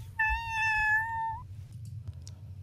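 A voice imitates a cat's meow in one drawn-out, slightly falling cry lasting about a second, close and clear, followed by quiet room noise with faint low hum.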